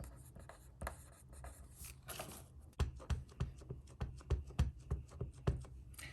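Pen scratching on paper swatches of watercolor, Bristol and other stock while writing labels, a run of close, quiet strokes that grow into sharper rhythmic scribbles in the second half.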